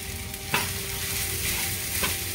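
Chicken fried rice with soy sauce being stir-fried in a pan, a steady sizzle with a few sharp scrapes of the spatula, close up with no one talking.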